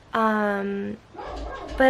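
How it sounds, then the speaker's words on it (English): A dog gives a single drawn-out bark-whine up close, then a short second yelp, while a person speaks softly between them. "Excuse my dog."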